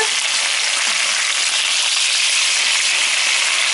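Pan-fried pork chops sizzle steadily in a hot pan as each piece is flipped, a loud, continuous bright hiss of frying fat with no talking.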